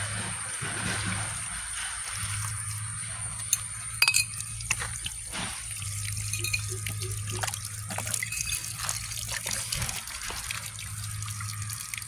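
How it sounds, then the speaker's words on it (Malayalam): Water poured by hand into a freshly dug pit at home, a close, steady trickling and splashing that runs for several seconds with a few clinks of a bottle, alone without talk. "നമ്മൾ ഇനി വെള്ളം ഒഴിക്കാൻ പോവുകയാണ്"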